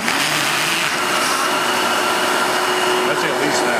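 A blower on a homemade hovercraft inflates the plastic skirt, giving off a steady, loud whooshing roar with a tonal hum that runs continuously for a few seconds.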